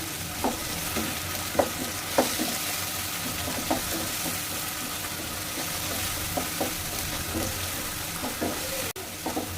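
Onions softening with tomato paste in a frying pan, a steady sizzle broken by regular scraping knocks of a spatula stirring, close and clear with no talk.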